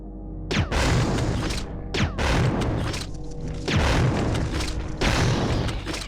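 Grenade launcher rounds explode in the Resident Evil 2 game. Four loud, heavy blasts land about one and a half seconds apart, and each one is followed by a rumbling, debris-filled decay.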